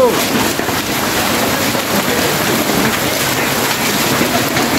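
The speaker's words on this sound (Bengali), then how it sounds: "সেই শিল হচ্ছে, সেই শিল হচ্ছে, এই যে সেই শিল হচ্ছে। বৃষ্টি আর বৃষ্টি" A hailstorm with rain in Natore, a dense, steady roar of hail and heavy rain beating on surfaces close by, continuous and loud throughout.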